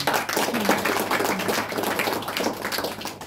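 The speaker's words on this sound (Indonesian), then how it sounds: "Tepuk tangan untuk kita." Congregation at a Christmas church service claps their hands, a steady, fairly loud patter of many hands with a low hum underneath and no talk over it.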